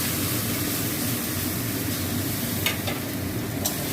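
Pointed gourd with onion is stir-fried in a pan with a paste of poppy seed, green chilli and white sesame, a steady close sizzle with a few scraping stirs of the spatula.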